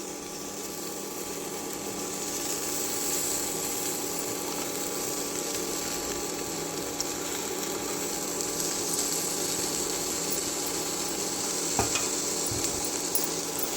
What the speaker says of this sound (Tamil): கொத்தமல்லியை வதக்கலாம்